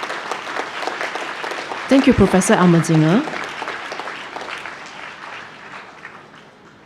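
Audience applauding graduates at a university presentation ceremony, a broad, continuous clapping that fades gradually, with someone speaking briefly over it partway through.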